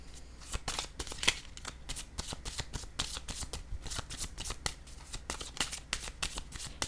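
Tarot cards shuffled by hand in a steady, rapid run of crisp riffling flutters, close and clear with no talking.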